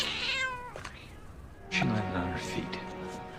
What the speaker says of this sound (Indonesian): Robert melampiaskan sama kucing Sarah yang dilempar ke bawah.